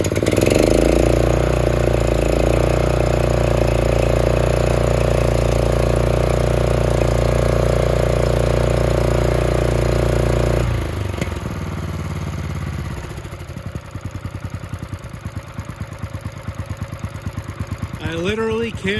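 A previously seized Honda GX270 small engine starts and runs, a loud, steady close-up engine drone that drops in pitch and level partway through as it settles toward a rougher, pulsing idle.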